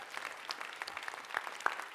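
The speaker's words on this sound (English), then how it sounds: "let's give a round of applause for the panel" A school writers' week audience applauds a panel of authors with faint, scattered claps that sound somewhat distant and thin.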